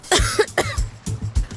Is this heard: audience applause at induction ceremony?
no